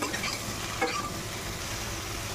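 Potatoes and ridge gourd stir-fry with spices in a hot pan, a steady close sizzle with a brief scraping stir near the one-second mark, no talking.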